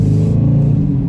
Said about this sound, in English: I do have the sports mode button pressed, which opens up the exhaust to be a bit louder